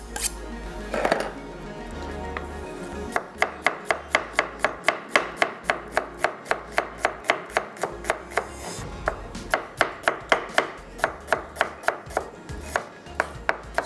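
A knife slices onions on a board in a long, steady run of crisp, evenly spaced chops close by, after a short pause at the start.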